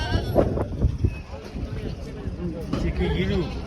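Goats, including nannies with kids, bleating amid the bustle of the Kyzylorda livestock market, several short cries standing out over a crowd's babble and people talking nearby.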